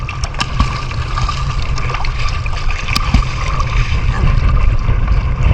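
Loud, steady rush of strong wind and water noise, with choppy splashes of waves against a small fishing boat throughout.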